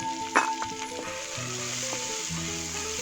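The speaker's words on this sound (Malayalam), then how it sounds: "സവാള, നമ്മൾ ക്യൂബ്സ് ആയിട്ട് അരിഞ്ഞു വെച്ച സവാള നമുക്ക് ഇതിലേക്ക് ചേർത്ത് കൊടുക്കും." Cubed onions dropped into a hot pan with oil, a brief clatter as they land followed by a steady close sizzle.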